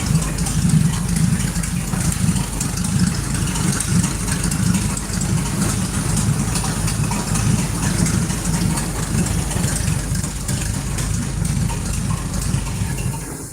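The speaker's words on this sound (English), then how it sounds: "Trying to bring her down to a quiet idle here." A 1931 Seagrave ladder fire truck engine idles steadily at close range, a low, even rumble with a slight rhythmic chug that holds throughout, with no talking.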